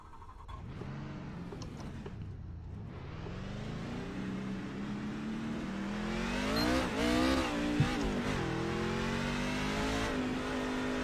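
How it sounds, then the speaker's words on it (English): NASCAR racing truck engine in a video game qualifying run at Nashville Superspeedway, revving up through a long rising pitch, shifting and climbing again, loud and close with a brief squeal near the end. "It is time to go qualifying."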